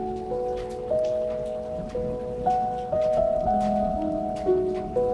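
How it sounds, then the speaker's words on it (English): Steady rain patters against a window, a dense continuous wash of drops with soft background tones and no voices. "just listen to the rain hitting the window."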